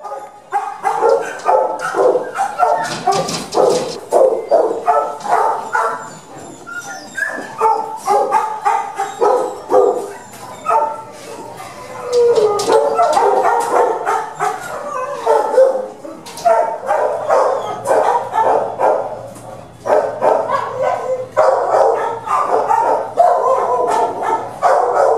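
Many dogs in a kennel bark, yip and whimper almost continuously, their overlapping barks loud and close, with the clamor rising and falling but never stopping.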